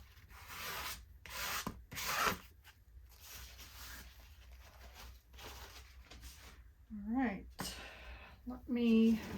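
A squeegee scrapes across shaving cream for paper marbling in soft, intermittent strokes, and a person talks between and over the scrapes.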